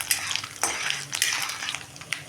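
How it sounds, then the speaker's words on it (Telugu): Crushed shallots being stirred into a frying tempering of chana dal, urad dal and mustard seeds in a pan for methi aloo tomato curry: continuous close sizzle with repeated scraping and clinking of a spoon against the pan, no talk. "ఇప్పుడు రెండు దంచిన చిన్నులపాయలు వేసేసుకొని కలిపిస్తున్నాం"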